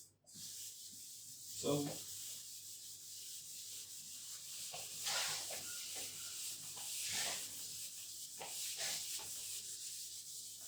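Soft scrubbing strokes wipe writing off a lecture-hall board, a faint, breathy rubbing that comes in uneven swipes over a quiet room, with a brief spoken word near the start.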